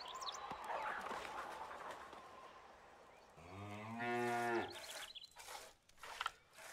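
A single cow gives a long, close moo in Stronghold: Definitive Edition, heard after soft medieval game ambience with faint birds, followed by a few clicks and thuds.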